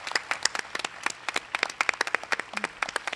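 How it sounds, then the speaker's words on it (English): An audience at an education symposium panel claps in a burst of dense, crisp applause, many hands slapping rapidly and loudly with no talk over it. "Let's just give one last round of applause to our panelists"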